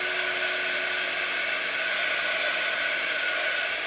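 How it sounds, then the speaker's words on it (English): A hair dryer dries an art journal page, blowing as a constant close loud whooshing hum throughout with no pauses or talk. "I'm just drying this off."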